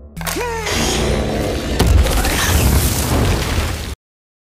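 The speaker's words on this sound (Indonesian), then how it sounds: "ledakan tepat mengenai Moknoroth yang mana sekaligus membuat dinding-dinding sumur runtuh" A loud, deep explosion in a deep mine shaft booms and rumbles on for a few seconds, heavy low-end thuds rolling under debris-like crackle as the well walls collapse, before cutting off abruptly.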